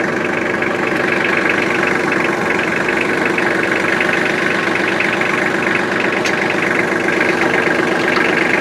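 A tractor runs steadily with its PTO engaged to drive a mini round baler in a hay field, producing a loud, continuous diesel drone with mechanical knocking and vibration throughout, no talking.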